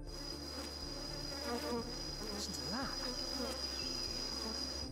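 Swarm of bees buzzing continuously, a dense droning hum with several insects passing close by and fading, steady and fairly loud with no voices.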